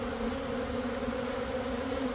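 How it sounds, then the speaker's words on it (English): Dense, steady buzzing of many honeybees flying around a hive in the aftermath of a swarm, a continuous close hum with no talking. "Lots of bee activity, lots of bees."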